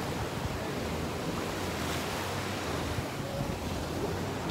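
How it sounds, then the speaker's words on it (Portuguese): Ocean waves at Caracol Beach in central Cancún wash in as a continuous broad roar of surf mixed with wind buffeting the microphone, with no voices. "Aqui é a Praia Caracol."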